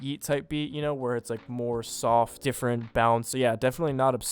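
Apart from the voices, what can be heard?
No everyday noise stands out behind the speech.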